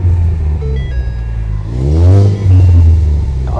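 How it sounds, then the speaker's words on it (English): A 2000 Chevy Camaro SS engine revs up briefly with a rising whine, then a sharp turbo blow-off valve whoosh and hiss as the revs drop, close by. "Oh yeah, you can hear that blow-off valve."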